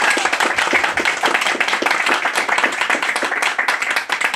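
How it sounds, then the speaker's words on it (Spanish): An audience claps at the end of a clown show in Oaxaca, many hands patting in a fast, busy patter that runs steadily at moderate volume with no talk. "demuéstramelo con el último de tus aplausos para que yo sepa qué tanto te divertiste"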